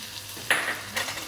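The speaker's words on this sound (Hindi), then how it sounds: "ये तड़के को हम इसमें डालेंगे," A curry leaf tempering hits a semolina mixture with a brief soft sizzle and stirring scrape, close and fairly quiet, with no voices.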